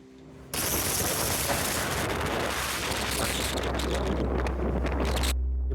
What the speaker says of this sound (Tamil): அந்தளவுக்கு பலமான காற்று